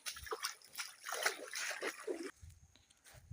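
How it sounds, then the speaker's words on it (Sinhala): Water splashes and trickles steadily in a stream flowing down from Maragala mountain in Monaragala district, Sri Lanka, close and fairly loud, then drops to a quieter gurgle near the end. "මරගල කන්දෙන් තමයි වතුර පාර එන්නේ."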